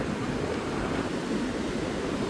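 Sea surf along the Konkan coast, a steady, dense rushing wash of waves that holds at an even level throughout, with no voices.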